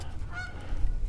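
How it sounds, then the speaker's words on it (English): Two geese honk nearby at a fishing spot, giving a few brief nasal calls over a steady low rumble of wind or water. No one speaks. "two geese as they're making honking noises at me"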